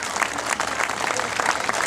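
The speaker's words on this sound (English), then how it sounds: "Let's give him a big Woonsocket round of applause" A crowd gathered at a veterans' monument event in Woonsocket applauds, brief and steady clapping with some crowd noise mixed in.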